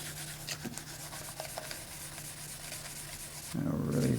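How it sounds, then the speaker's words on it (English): Wax is rubbed onto a wooden presentation box with superfine synthetic steel wool, producing a continuous soft close scrubbing that grows louder and coarser in the last half second. "To wax the body, I'm using this superfine synthetic steel wool."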